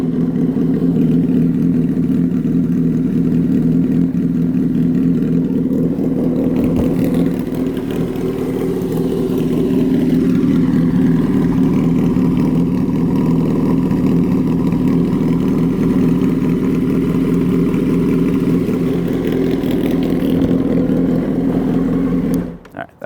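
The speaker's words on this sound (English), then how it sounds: "Now the bike isn't warm, so I'm not going to rev it for you" A 2007 Honda 919 motorcycle idling cold in neutral with the muffler removed, a loud, steady, low rumbling engine note held for over twenty seconds before cutting off at the end.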